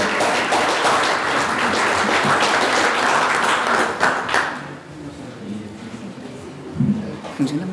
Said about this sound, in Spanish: Así que aprovechamos de dar un aplauso.